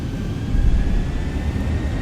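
An airliner's engines roar at takeoff power in the X-Plane flight simulator, a steady dense rumble with a faint high whine, loud and continuous on a departure from Madeira Island.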